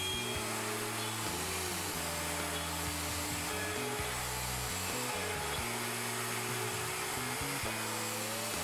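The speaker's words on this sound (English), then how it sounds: "Route the mortise." A router cuts a mortise on a Leigh FMT mortise and tenon jig, making a steady, close, high whine that shifts pitch as the bit loads and unloads in the wood.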